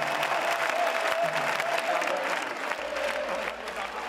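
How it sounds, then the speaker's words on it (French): Crowd in a cathedral square applauding riders at the Saint John festival in Menorca, a dense, continuous roar of clapping from many people outdoors, with a faint tone running beneath. "Soudain, les applaudissements se déchaînent."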